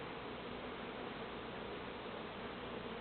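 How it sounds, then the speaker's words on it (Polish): A dense, continuous buzzing of many honeybees inside a hive, even and unbroken throughout. "Moje pszczoły bardzo ładnie budują, patrzcie."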